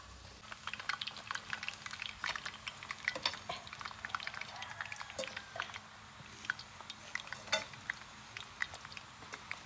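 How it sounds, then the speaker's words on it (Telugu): Hot oil sizzling and crackling as appam batter fries, a steady close hiss peppered with fine pops and spits throughout, with no voices over it. "నూనె బగ్గ కూస్తుంది"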